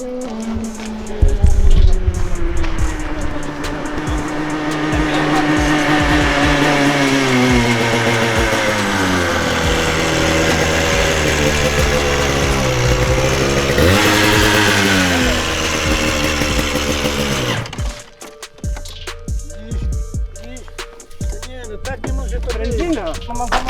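A go-kart engine with a badly set carburetor revs loudly and close, its pitch rising and falling unevenly for about eighteen seconds before cutting out, then only faint background noise remains.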